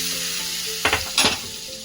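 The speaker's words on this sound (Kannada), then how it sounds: "ಒಂದು ಫೈನ್ ಆಗಿರೋ ಉದ್ದಿನಬೇಳೆ ಹಾಕಿದ ಒಗ್ಗರಣೆಯನ್ನು ಕೊಡ್ತಾ ಇದ್ದೀನಿ" Urad dal and spices tempered in hot oil, a brief sizzling burst in two quick surges as the tempering hits, over a steady low hiss.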